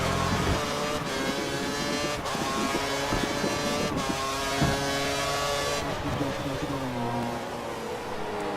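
A Sauber Formula 1 car's engine screams in the F1 2013 racing game at the German round, a high, buzzing whine that rises and falls with gear shifts and corners and holds at a fairly constant level throughout.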